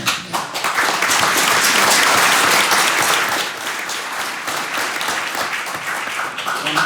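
An audience applauds at a port commission meeting, a dense burst of clapping that swells, then gradually thins and fades over several seconds.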